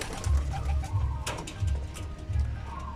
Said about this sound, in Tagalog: O mga bagong lipat natin na young bird mga kalapatids.